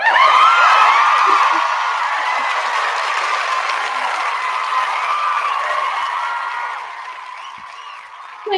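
Audience applause with cheering and whoops for guest Suzy Hansen at a talk event, loud at first and then settling into steady clapping that tapers toward the end.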